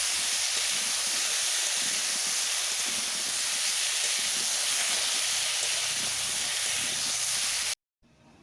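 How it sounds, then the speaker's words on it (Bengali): Cauliflower with salt and turmeric fries in a hot wok, giving a loud, steady, hissing sizzle that runs unbroken until it stops suddenly near the end. "লবণ আর হলুদ গুঁড়ো দিয়ে ভালোভাবে নাড়াচাড়া করে ভেজে নেব।"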